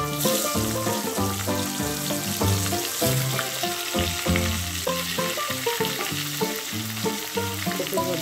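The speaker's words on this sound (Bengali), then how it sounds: "এর মধ্যে আবার আমাদের কপিগুলোকে একটু ভাজতে হবে" Cauliflower florets fry in a pan with a dense, constant sizzle, heard under background music.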